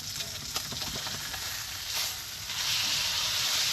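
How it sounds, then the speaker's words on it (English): Steak sizzling in a pan while camping on the ice at Clear Lake, Iowa, a steady close frying hiss with faint stirring clicks that swells louder toward the end as the meat is flipped. "It's time to flip our steak."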